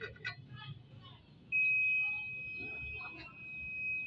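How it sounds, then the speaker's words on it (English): A steady high-pitched electronic beep from a multimeter continuity test on brushless alternator parts, holding for about two and a half seconds, with faint background noise before it starts. "It's beeping, so the continuity is true."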